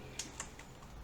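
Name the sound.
computer keyboard keys pressed, Shift and Enter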